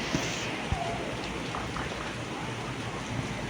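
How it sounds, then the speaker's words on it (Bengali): Heavy rain pours down in Vrindavan during a downpour, a dense steady patter of drops on surfaces with a few sharper splashes, close and continuous with no talk over it. "দেখো বৃষ্টি দেখো কত জোরে নামলো"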